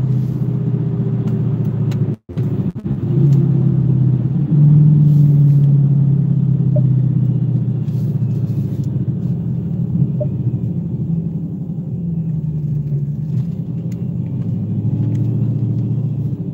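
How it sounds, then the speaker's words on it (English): A drag racing car makes a live pass at a drag strip, heard as a loud, sustained low engine rumble from a distance, fairly steady with slight swells and no speech. "there's a live pass down the drag strip"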